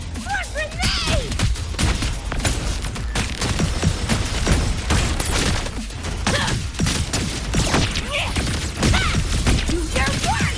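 Grenade blasts and gunfire in Wuthering Waves during a Cyberpunk collab battle wave, with repeated sharp bangs and thumps in an irregular busy barrage, mixed with chirpy effects and shouted game voice lines.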